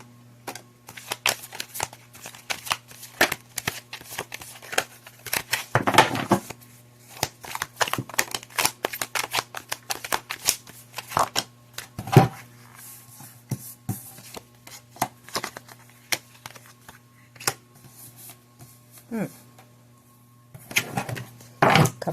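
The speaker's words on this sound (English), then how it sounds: "I've shuffled the cards." Tarot cards being shuffled by hand: rapid papery riffles and flicks in uneven bursts with brief pauses, close and fairly quiet over a steady low hum.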